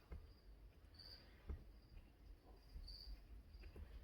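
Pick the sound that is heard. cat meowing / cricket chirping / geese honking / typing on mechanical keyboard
cricket chirping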